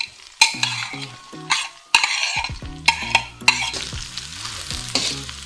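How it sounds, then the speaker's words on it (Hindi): Finely chopped onion drops into hot oil in a pan and fries with a loud, steady sizzle, broken by several sharp clatters and scrapes of a spoon stirring against the pan. "अब मैंने एक प्याज बड़े साइज का ये बारीक काट के रखा था, ये अब मैं इसमें ऐड कर रही हूँ"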